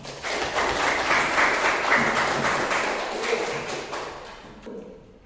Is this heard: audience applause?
yes